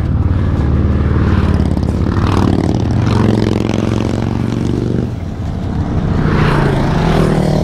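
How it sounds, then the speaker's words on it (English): An off-road motorbike passes near the Traralgon Trail, its engine a loud, steady drone that fills the whole stretch, dipping briefly in the middle before roaring on with no voices over it. "That's an off-road bike as well."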